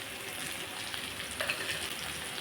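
Taro, potato and chickpeas fry in a pan, producing a continuous low sizzle with occasional faint pops and stirring noises, moderately quiet and steady.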